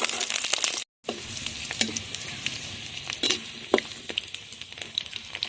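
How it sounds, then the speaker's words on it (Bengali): Cut potatoes fry in hot mustard oil in a kadai with a constant crackling sizzle, broken by stirring scrapes and one brief pause. "আলুটা দিয়ে দেবো এখন আলুগুলো লাল লাল করে ভেজে নেব"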